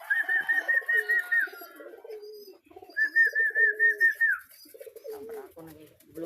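Pigeons coo close by in two longer runs of rhythmic, throaty pulses, with scattered softer coos and quiet bird chatter between them.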